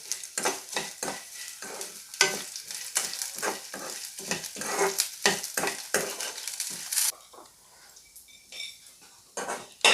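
Crushed garlic stirred and fried in a pan for a rice mixture recipe, with a steady run of close scraping strokes over a bright sizzle that drops away near the end before one last scrape.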